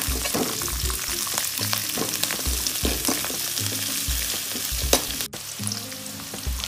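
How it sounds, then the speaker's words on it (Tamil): Onion, curry leaves and coriander sautéing in hot oil with mustard seeds and chana dal for Chettinad masala idiyappam, a continuous close sizzle broken by stirring clatter against the pan. "வெங்காயம், கருவேப்பிலை மல்லித்தழை போட்டு நல்லா வதக்கி விடணும்."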